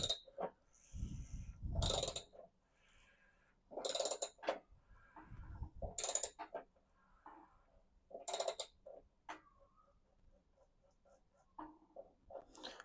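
Socket ratchet clicking in short bursts while tightening a 1 3/16 socket on a Rheem water heater anode rod, with brief pauses between rounds of cranking, close and fairly quiet.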